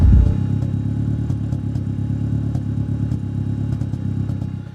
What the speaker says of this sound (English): you hear this small like pops